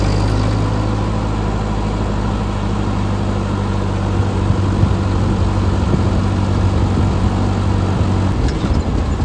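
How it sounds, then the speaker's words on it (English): A steady, low old tractor engine rumbles and idles continuously close by, with a constant drone and no other sounds on top. "I love the sound of these old tractors."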